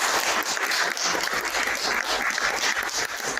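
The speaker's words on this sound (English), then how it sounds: "Let's give them a round of applause." A church annual meeting audience claps for two newly elected members, a sustained, fairly loud wash of hand claps from a modest indoor crowd.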